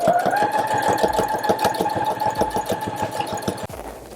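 A sewing machine stitches a straight seam through pillow fabric, a close, fast mechanical rattle with a steady hum, running continuously until it stops abruptly near the end.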